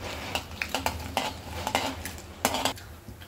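Urad dal sautéing in a pan for curd rice: quiet scraping and tapping of a spoon against the pan in irregular strokes, over a faint sizzle.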